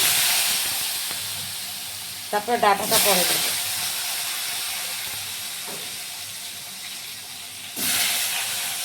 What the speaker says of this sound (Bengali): এবার আলুগুলো একটু লাল লাল করে ভেজে নিই